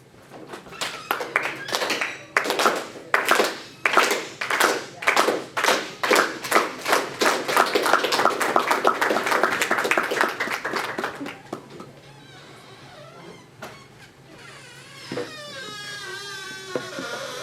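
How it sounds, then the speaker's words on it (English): At a senate meeting, a group welcomes newly confirmed senators back with a slow clap of distinct, evenly spaced claps that speed up into fuller applause before dying away, followed by quieter sounds and a few voices. "We're gonna welcome them back in with a slow clap."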